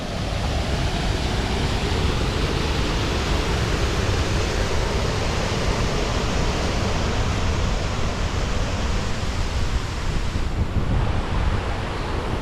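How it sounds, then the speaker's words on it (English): Rushing water from a waterfall beside the White River in Indianapolis, heard on a city walk: a steady, loud, close roar of falling water that never lets up, with no voices. "Goes another really nice waterfall right here."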